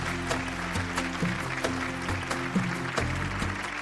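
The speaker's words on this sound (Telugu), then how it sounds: "గట్టిగా క్లాప్స్." Audience applause at a family gathering, a steady patter of clapping from a crowd under a sustained musical tone, with no talk.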